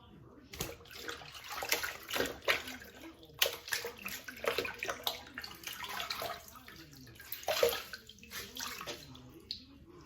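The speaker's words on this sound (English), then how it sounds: "let's rinse it off and see what we got" Water splashes and runs as a face is rinsed after a straight razor shave, uneven bursts of faint close splashing and trickling, with voices talking in the background.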